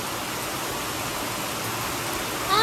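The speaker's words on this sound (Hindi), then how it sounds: "तेज बारिश हो रही है ना" Heavy rain pouring down, a dense steady hiss of falling water with no pauses, with a faint whistle-like sound creeping in at the very end.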